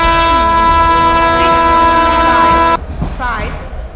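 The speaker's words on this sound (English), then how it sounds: "Rajdhani Superfast Express is arriving at platform number 3." A Rajdhani Superfast Express, hauled by a WAP4 electric locomotive, arrives at a railway platform: a loud, sustained horn blast for nearly three seconds that cuts off suddenly, leaving rumbling station noise behind it.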